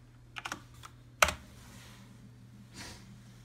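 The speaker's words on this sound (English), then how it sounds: "Typing with one hand." Someone types with one hand on a computer keyboard to log in at a gaming desk setup. A few sparse, faint key clicks sound over a low steady hum, with one sharper tap standing out among them.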